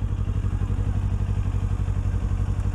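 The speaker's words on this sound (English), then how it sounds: "Bike's not starting?" Motorcycle engine that won't start, heard as a steady low rhythmic chugging and clattering that never catches, close and fairly loud with no talk over it.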